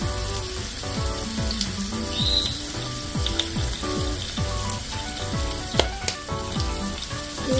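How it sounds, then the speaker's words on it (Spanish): Shrimp sizzling in a hot pan with pepper, a dense continuous crackling fry that stays steady and close throughout, with a few sharper pops and no talk. "Voy a echar todos estos langostinos aquí."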